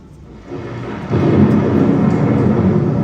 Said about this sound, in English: There must be a thunderstorm coming on.